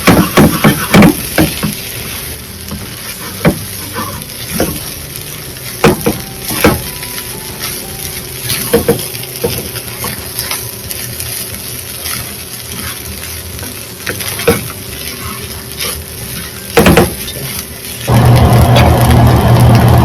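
Prawn and egg fried rice tossed and stirred fast in a pan over high heat, loud clanking strokes and scraping over a constant sizzle, close up, with a harsh rushing burst near the end.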